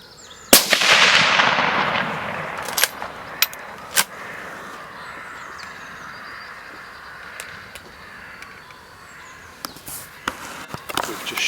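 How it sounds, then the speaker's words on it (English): During a roe deer stalk, a single loud rifle shot cracks near the start and its rumbling echo fades through the open countryside, followed by scattered faint knocks and a few crow calls. "We've just shot a roe buck"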